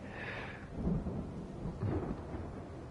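Thunder from lightning strikes in the video game Alan Wake rumbles low and faint in two brief rolls, with no voices.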